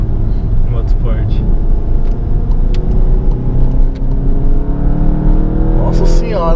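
Engine of a Volkswagen Golf GTI with a four-cylinder engine, roaring and revving steadily in a racing game, with a rising tone toward the end. Someone talks over it throughout.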